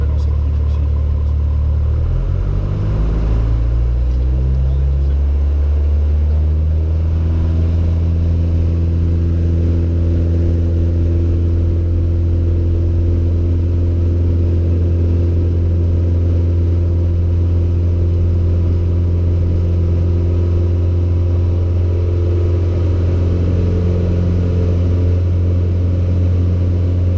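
A light aircraft engine at full power on the takeoff roll, a loud, steady droning rumble whose pitch climbs in the first seconds as it accelerates, then holds a sustained roar throughout.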